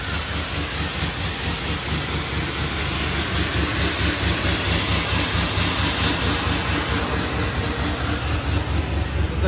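A 1987 Mazda RX-7 FC, LS-swapped and fitted with a ProCharger supercharger, runs just after a cold start. The engine gives a loud, close, steady rumble with a rapid pulsing lope that continues without a break.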